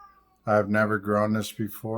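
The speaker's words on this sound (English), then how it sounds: "So if you hear something sound like it's moaning and dying, that's the cat." A house cat meows and moans in long, loud, drawn-out wails, close by and overlapping with a person talking.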